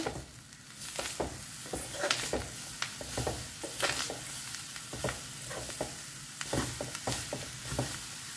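Jaggery mixture being stirred in a pan for Ukadiche modak, with a steady sizzle beneath repeated scraping strokes of the spoon at close range, and no voices.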